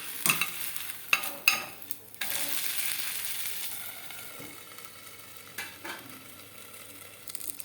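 Oats dosa cooking on a hot pan gives a soft, steady sizzle with a few sharp spatula scrapes and taps, fairly quiet throughout.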